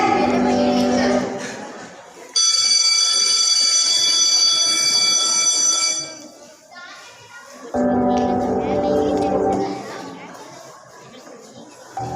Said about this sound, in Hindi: पहली घंटी बजते ही लिखना शुरू करेंगे और दूसरी घंटी बजते ही बंद